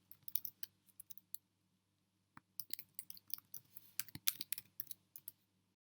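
Quiet, close computer keyboard typing: a short run of scattered keystrokes, a pause of about a second, then a denser burst of rapid clicking as login details are entered.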